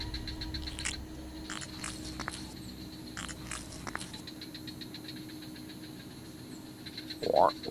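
Frogs croaking in an indoor rainforest, repeated pulsed calls in bursts near the start, later thinning to sparse chirps over a steady background hum, with a brief louder splash-like sound near the end.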